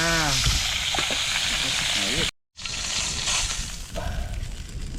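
Oil sizzles and crackles steadily as food fries in a pan, with a brief dropout midway and faint voices in the background.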